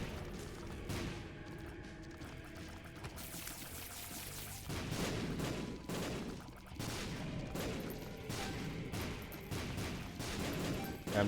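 Tears firing in the video game The Binding of Isaac: Repentance, rapid bursts of popping shots in quick volleys with short gaps between them, over game background sounds.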